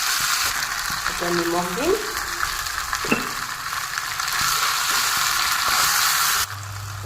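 Potatoes fry in a pan for a fish-belly fry dish, with a loud, continuous sizzle and occasional stirring scrapes; a voice speaks briefly over it.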